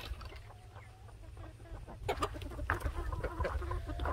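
A chicken clucks in a run of close, irregular calls over soft background noise, growing busier and louder partway through.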